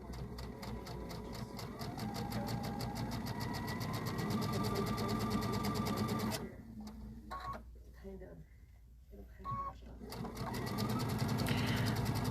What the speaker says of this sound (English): This foot is going to work only on the sewing machine